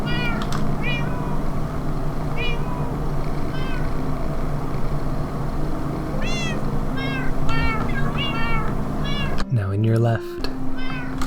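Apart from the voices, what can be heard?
cat meowing and purring in a video game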